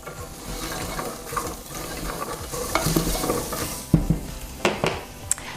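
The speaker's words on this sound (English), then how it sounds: "Now that's going to saute in the background while I get the next ingredients ready." Garlic sautés in a pot with a steady background sizzle, joined by clattering stirs and metallic knocks of a utensil against the pan for a vegetable and bean gumbo.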